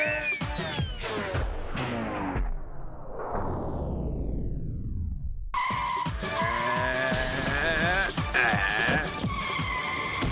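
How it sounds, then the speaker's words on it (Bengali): Car skidding past as a film sound effect, a long loud tyre squeal sweeping downward in pitch, then a burst of screeching and engine noise with swirling music-like tones, close and dominant throughout. "গাড়ির আওয়াজ তো পেয়েছিলাম।"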